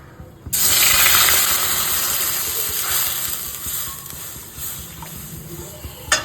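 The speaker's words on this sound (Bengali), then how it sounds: "আমি পুরো দুধটা এক্ষুনি দিচ্ছি না, আমি কিছুটা দুধ দিয়ে দিলাম।" Milk poured into a hot wok of ghee with whole cinnamon and cardamom for kesari kheer, a sudden loud hiss and sizzle that bursts in and then settles into a steady bubbling seethe.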